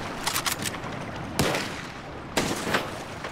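Gunfire from a train shootout in Red Dead Redemption 2 Online: a short burst of rapid shots, then two separate loud cracks spaced about a second apart.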